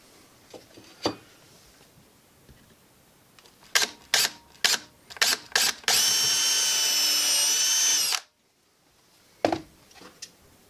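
A power drill drives a screw to mount an old Stanley block plane holder on a workshop tool wall. A few sharp clicks come first, then one steady, close whir lasting about two seconds, with no talking.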